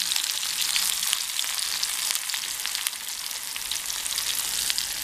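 Mustard seeds and crushed shallots sizzle in hot oil for a Tamil brinjal pickle, a steady, close, dense hiss with fine crackles running throughout and no voices.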